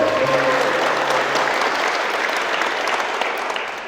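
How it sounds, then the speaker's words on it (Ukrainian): Loud, dense applause from a crowd at a handball day event greets a veterans' team, a sustained wash of clapping that fades slightly toward the end. "Оплески команді ветерани."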